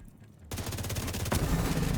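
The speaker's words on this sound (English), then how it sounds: "Going back from Div 2 shooting to Div 1 shooting" Automatic gunfire in the video game The Division breaks out suddenly after a quiet moment, a rapid, loud, sustained burst of shots with a sharper crack partway through.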